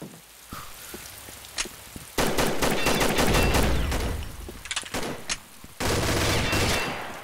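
Rapid bursts of video game gunfire from a Halo clan war match, with clustered shots and dense automatic volleys rattling loudly in several waves, separated by brief quieter gaps.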